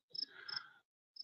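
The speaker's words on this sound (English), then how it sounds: "The loud cricket." A loud cricket nearby gives two shrill chirps in quick succession. A short silence follows, and then a third chirp begins.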